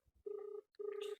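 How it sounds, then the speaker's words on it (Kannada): Ringback tone of an outgoing phone call, two steady buzzing rings separated by a short pause, quiet and close, with no talk. "ನಮ್ಮ ಅಪ್ಪಂಗ್ ಫೋನ್ ಮಾಡ್ತಿದ್ದೀನಿ"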